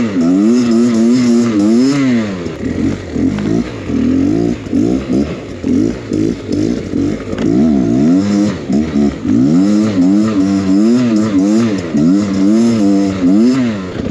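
A Beta X Trainer 300 dirt bike is ridden through snow, its engine revving hard and loud nearby in repeated rising and falling bursts, with no talking.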